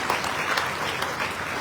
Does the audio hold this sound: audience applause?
yes